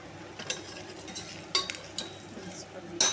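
A spoon stirs and roasts masala with salt, roasted chili and turmeric in a pan for achari aloo. A few faint, scattered scrapes and clinks sit over a low, quiet kitchen background.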